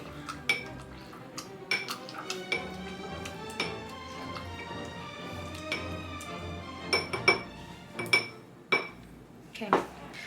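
Fruit being muddled with bitters in a glass for a smoked old fashioned, a series of irregular clinks and knocks of tool on glass, close by, with a voice talking in between.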